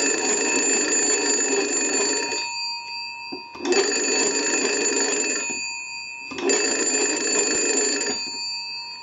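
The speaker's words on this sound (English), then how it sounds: "Now first we'll go ahead and crank the unit and ring the bells." Loud mechanical bells of a Western Electric 250 W wood wall telephone, rung by hand crank, in three long bursts of about two seconds each, separated by short pauses, close and clear.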